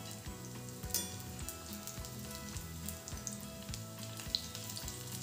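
Puffed rice cutlets frying in hot oil, a steady close crackle with regular soft knocks and bubbling pops running evenly throughout, no voices.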